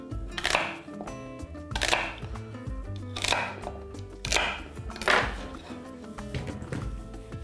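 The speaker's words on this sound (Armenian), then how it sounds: "սա էլ մոտ 3 սանտիմետրանոց կտորներ են կտրատում" A knife chops a thick celery stalk into roughly 3 cm pieces on a board, with four or five distinct knocks spaced about every second or so over a soft background of music.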